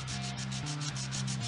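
Rapid back-and-forth sanding with a foam-backed Flex-I-File, steady rhythmic rasping strokes on a custom action figure, close and continuous with no talking.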